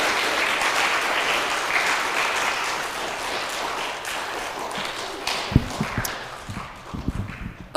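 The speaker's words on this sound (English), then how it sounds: "Let's give our spellers a round of applause for getting the jitters out." An audience at a school spelling bee applauds the spellers, dense clapping that thins out into scattered claps and a few footsteps or taps toward the end.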